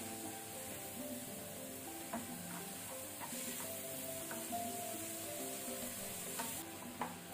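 Bananas frying in a pan on a medium flame, a steady soft sizzle with occasional light stirring scrapes and clicks throughout.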